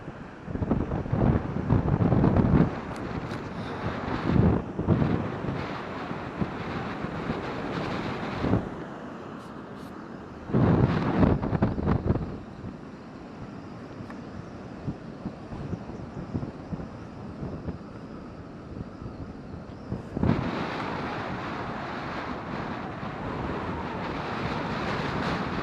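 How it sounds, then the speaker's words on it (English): Windy beach at Trunch Lane during sea fishing in harsh conditions: heavy gusts buffet the microphone in loud bursts over a continuous roar of surf, with no talking. "But this is the beach"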